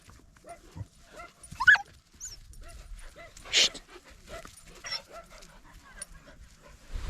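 A dog whimpers and gives sharp barks close by, with scuffling, paw movement and other sounds of play between dogs in a short, irregular sequence.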